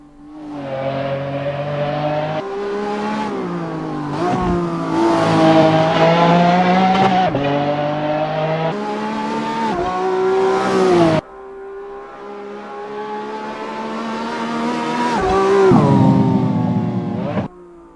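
Modern supercar in Assetto Corsa: a loud engine revving up and down through gear changes, with tire squeal as it corners, close and dominant with no talk.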